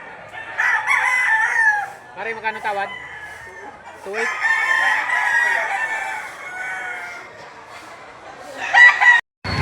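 Roosters crowing at a rooster market in Lipa City, Batangas, on a rainy day, several long crows in succession, fairly near, with a voice talking between them.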